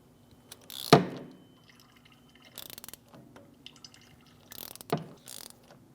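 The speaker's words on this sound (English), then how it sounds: "caliper pushback tool, we're going to screw our caliper back in." A caliper pushback tool is screwed in to retract a Mitsubishi Outlander rear brake caliper, producing a few separate bursts of ratcheting and mechanical clicking with quiet gaps between them, close by and with no speech.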